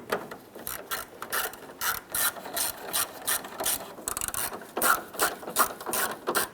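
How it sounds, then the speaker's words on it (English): Screws driven into the grille of a 1995-2001 Ford Explorer with a ratcheting driver, a rapid series of close, repeated clicking ratchet strokes in bursts throughout, with no talking. "Let's install our 4 screws across the top of the grill."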